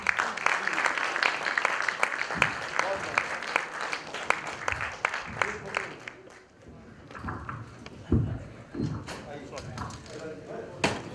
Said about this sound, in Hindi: तो इन सब के लिए जोरदार तालियां।